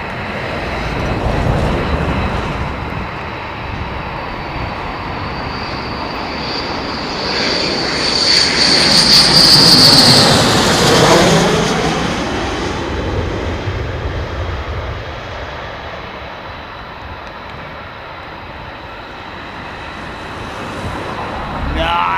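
Fighter jets such as the F-22, F-15 and F-35 thunder past with a loud, rising and falling engine roar that peaks mid-clip, a high whine and sweeping tones from the nozzle actuators riding over the rumble.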